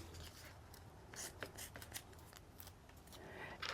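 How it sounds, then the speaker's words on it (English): Scissors snipping through KT athletic tape to cut off a small square, a run of crisp close cuts and rustling handling of the tape, no talking. "This is just KT tape I have on hand, and I'm going to cut off a little square first"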